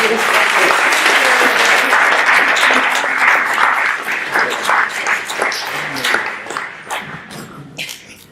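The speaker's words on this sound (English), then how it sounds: "Another round of applause for Kyoko." Sustained applause from an audience, loud and dense at first, then thinning out into scattered claps toward the end.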